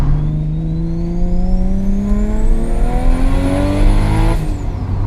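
A 700 hp Toyota Supra with a 2JZ engine accelerates hard on a highway, its engine note climbing steadily and loudly through one long pull with a rising turbo whine, then easing off at the end.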